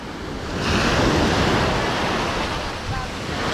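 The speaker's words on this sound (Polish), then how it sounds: "gdzie się fale załamują i rozbijają brzeg" Broad roar of Adriatic surf as high waves break on the Croatian shore, steady and loud throughout with wind buffeting the microphone.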